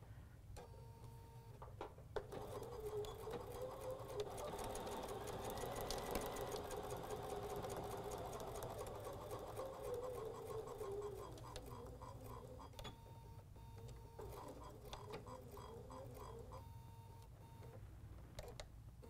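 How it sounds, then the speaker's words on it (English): A sewing machine stitches a quarter-inch seam through quilting fabric, running in a steady, fast mechanical chatter close by for most of the stretch, with brief pauses and restarts near the start and end. "So we're at our machine. We'll stitch a quarter inch seam."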